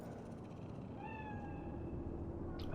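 A cat in the game Cyberpunk 2077 gives a single drawn-out meow, faint against a low steady background hum.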